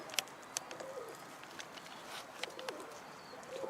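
Soft, low pigeon coos come in a few brief phrases against a quiet background of scattered chirps and light clicks.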